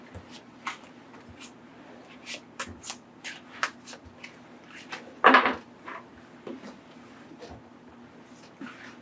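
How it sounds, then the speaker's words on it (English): Tarot cards slapped down and shuffled on a table in a series of quick, close papery flicks and riffles, with one louder burst of shuffling midway and no speech. "Just put down a couple more cards."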